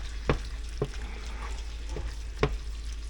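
Steak strips frying in oil in a pan for a keto stir fry, a steady sizzle punctuated by four clattering stirs or scrapes, close and moderately loud.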